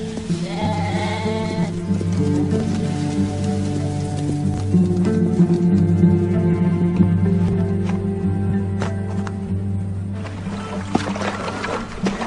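Sheep bleat amid a steady layered background, the calls drawn out and overlapping for several seconds, with faint patter and scattered ticks.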